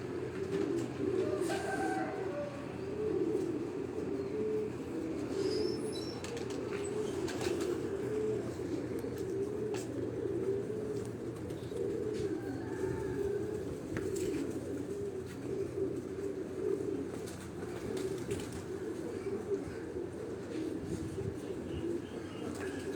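Pigeons cooing from a rooftop in Rawat on Chak Beli Road, soft repeated low coos continuing throughout with occasional faint chirps and background hum, fairly quiet and distant.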